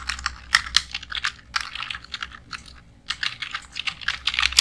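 Rapid keystrokes on a computer keyboard while entering text in MS Word during a computer class, in close, irregular bursts with brief pauses and no speech.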